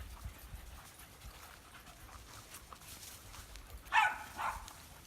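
Freya the dog gives two quick, faint barks close together after a few seconds of quiet panting and outdoor rustle.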